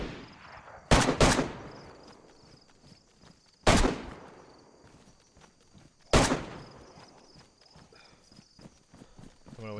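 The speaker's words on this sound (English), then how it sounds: "Some more shots, it's really far away." Gunfire in the DayZ video game: three sharp, loud shots spaced a few seconds apart, each with a long trailing echo that suggests distance, over low ambient rumble and faint movement noise.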